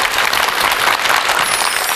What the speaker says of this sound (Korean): 힘찬 박수로 청해 듣겠습니다